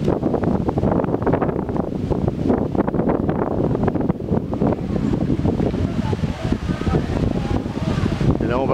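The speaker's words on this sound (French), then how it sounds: "Un peu de vent, ça fait un peu de bruit" Heavy microphone wind buffeting roars continuously outdoors at a Dominican Republic beach resort with a palm grove, loud and close, with someone talking underneath.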